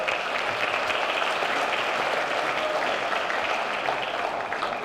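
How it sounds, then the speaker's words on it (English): A crowd of parents at a high school fall athletics meeting gives sustained applause for the transportation staff, a steady even roar of many hands at moderate distance with no talk over it. "let's honestly give our transportation a round of applause"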